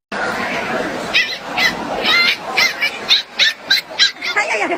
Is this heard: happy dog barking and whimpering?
yes